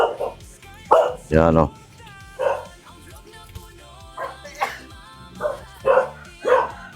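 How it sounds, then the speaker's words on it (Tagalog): A dog barks in repeated bursts, some close and loud, others shorter yips, at a house gate while people talk and call out throughout. "Hoy, may aso."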